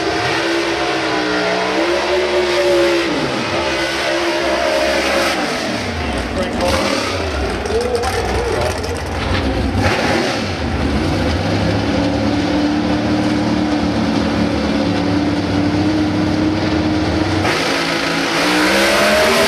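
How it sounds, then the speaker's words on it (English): Drag racing cars at the Pomona NHRA drag strip roar continuously, their loud engine notes sweeping up and down in pitch as they launch and pass. A voice talks over the racket. "enjoy some drag racing at one of the most famous drag strips in North America"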